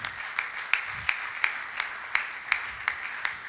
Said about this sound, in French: Est-ce qu'on peut donner des acclamations?